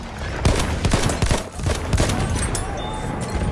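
Dense video-game battle gunfire with rapid machine-gun bursts and sharp cracks, loud and close, rattling continuously without pause for the whole stretch.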